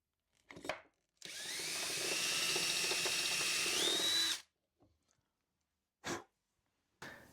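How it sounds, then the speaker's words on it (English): Power drill boring a hole in wood for a 6mm dowel, one steady whine of about three seconds that rises slightly in pitch near the end, bracketed by short clicks and bumps. "so I need to get a hole drilled for it to go into."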